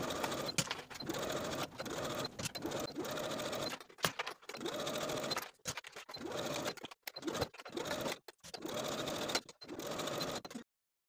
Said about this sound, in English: Then we can sew the outer waistband to the top of the skirt all the way across with a 5/8 inch seam allowance.